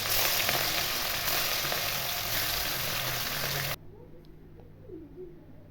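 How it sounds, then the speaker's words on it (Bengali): Rohu fish pieces frying in hot oil, a loud, dense sizzle that runs steadily for several seconds, then cuts off abruptly to a quiet room. "দুটো সাইডই ভালো করে লাল লাল করে ভেজে নিলাম।"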